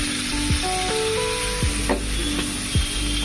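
Ground spice paste loosened with a little water sautéing in a pan for katla fish curry, a steady sizzle punctuated by several spaced spatula scrapes and knocks, no talking.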